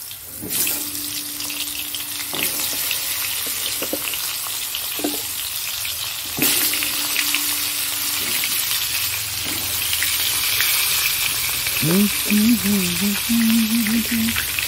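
Papaya and vegetables hit hot oil tempered with five-spice, bursting into a loud, continuous sizzle and spatter for a Bengali papaya-potato fish curry. It starts abruptly and holds steady, with faint clinks and a brief tonal murmur near the end.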